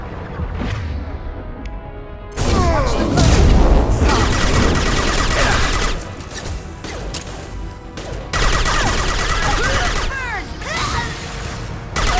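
Heavy gunfire and crashing impacts in a Mass Effect firefight, loud and sustained with bursts and booms, dense mixed battle sound with some speech.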